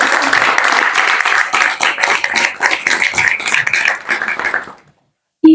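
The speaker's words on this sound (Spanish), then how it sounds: "Démosle también un fuerte aplauso" Strong applause and clapping from an audience at a panel on migration and intercultural advisory, dense and steady for about five seconds before cutting to silence.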